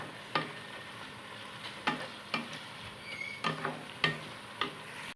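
Red amaranth greens sautéed with tamarind pulp in a pan, a soft low sizzle punctuated by sharp, evenly spaced taps and scrapes of the spatula, close and fairly quiet, without speech.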